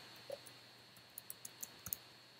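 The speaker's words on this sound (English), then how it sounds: "click the green checkbox to approve that task." Several quick computer mouse clicks on a checkbox in project-management software, small sharp ticks scattered irregularly across a quiet room, close and faint, with no talking.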